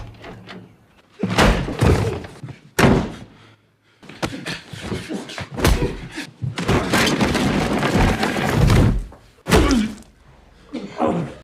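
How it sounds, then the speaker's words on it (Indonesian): Heavy thuds and knocks on a house door in a film scene about a hacker, several loud, close blows in uneven bursts with pauses between, mixed with other scene sounds. "Cole pun dibangunkan oleh seseorang yang mengetuk pintu rumahnya"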